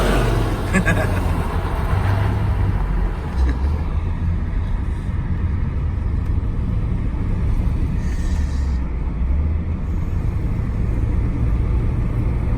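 Rolls-Royce Silver Shadow wheels spinning at a standing race start, a loud continuous low engine rumble with road noise filling the whole stretch.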